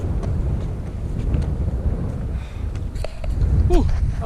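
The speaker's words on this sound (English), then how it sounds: "gust of wind's just come in without you even realising" Wind gusts across an exposed fell ridge in high winds, a steady low roar buffeting the microphone that swells louder toward the end, with a brief faint voice-like sound near the close.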